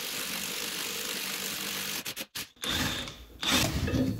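A Lisle wheel stud installer draws a wheel stud into a hub with steady mechanical grinding and ratcheting, broken by a couple of brief gaps, then a louder burst of turning near the end.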